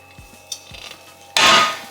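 An omelette with whipped foam, made as a sweet diet breakfast, is turned over into a second preheated frying pan: a few light metallic knocks, then a loud, close burst of sizzling hiss.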